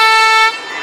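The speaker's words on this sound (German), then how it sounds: "Also, hast du eine Hupe drin?" Horn of a K-700A tractor blares in one loud, steady toot lasting about half a second, then cuts to quieter background noise.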